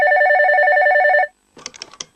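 A cartoon telephone ringing with a rapid warbling electronic trill for over a second, loud and alone, followed by a short burst of quick clicking tones.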